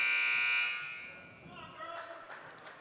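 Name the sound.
buzzer at basketball game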